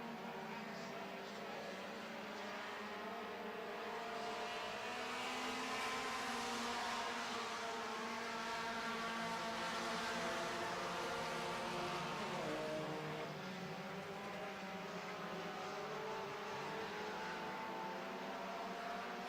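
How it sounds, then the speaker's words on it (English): Several 4-cylinder stock cars racing side by side around a track, a continuous loud engine drone with shifting harmonic tones as cars pass, sustained throughout without speech. "Cars door to door on the back half of this track."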